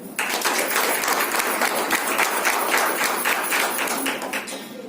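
An audience at a women's business meeting in Badlapur breaks into applause, a dense, steady clapping that starts abruptly and holds for nearly five seconds before thinning slightly at the end.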